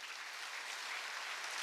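Audience applause at a church revival meeting, a steady dense wash of clapping that holds evenly for the brief moment, with no talking over it.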